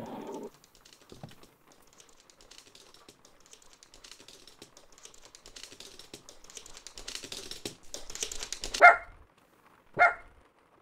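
Danny's House gameplay features the dog Ginger, heard as two sharp, close barks near the end, after quiet stretches of soft clicking and shuffling.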